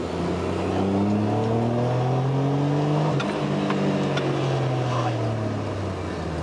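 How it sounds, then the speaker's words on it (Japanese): A Suzuki Kei with a twin-cam engine and 144,000 km on it revs up smoothly and close by, the engine note climbing to a peak and then easing back down in one sustained pull. "吹き上がりもいいですし、エンジンのアイドリングの安定感もかなりいいですね。"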